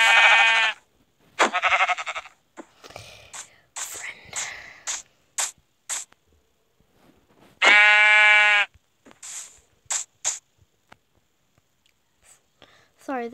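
Sheep in a video game bleat in several loud, wavering cries, with two long calls standing out among shorter bursts, separated by near silence and brief clicks.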